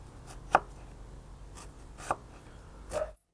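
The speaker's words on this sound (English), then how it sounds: "I've got about half a kilogram of onions here. I'm going to dice them." Knife dicing onions on a cutting board, sounding as a few separate sharp chops spaced about a second or more apart over a quiet background, close and clear.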